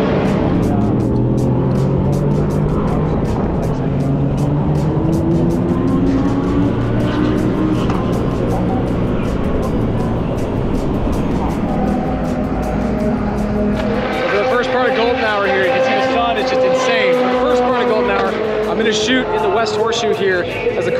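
Race cars run past on a circuit during a 24-hour endurance race, a continuous loud engine roar with a pitch shift midway as a car nears and passes, and talk over the top.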